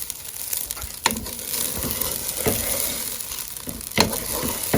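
Turkey wings frying in a pan for orange BBQ wings, a steady loud sizzle with occasional sharper pops and stirring clatters, with no talking.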